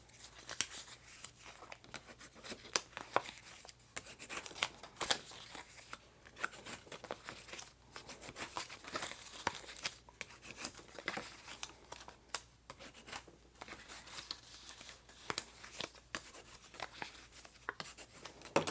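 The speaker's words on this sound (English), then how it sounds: "Okay, I'm going to fold and burnish it now." Cardstock is folded and burnished along score lines for a Christmas treat box, giving faint, close crinkling and rubbing strokes in an irregular rhythm.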